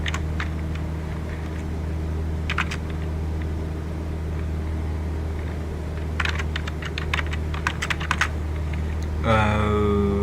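Scattered bursts of computer keyboard typing tap over a steady droning hum of a Cessna 172 flight simulator cabin, quick light clicks in short clusters.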